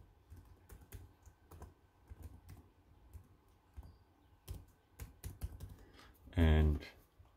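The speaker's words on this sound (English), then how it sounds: "You can then type in your email address." Keys clack on a computer keyboard in quick, uneven bursts of soft taps, fairly close and quiet, with a short louder tonal burst near the end.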